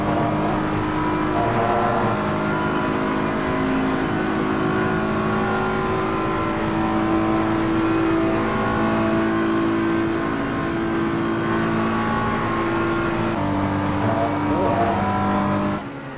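Loud, steady race car engine drone heard from an in-car camera in an Xbox racing game at Spa, a continuous harmonic whine holding near-constant pitch with slight shifts throughout.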